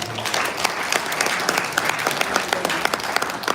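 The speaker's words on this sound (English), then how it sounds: "A round of applause for them." A crowd at a gathering of Nigerians in London applauds steadily for the whole stretch, with dense, continuous clapping and a few sharper individual claps standing out near the microphone.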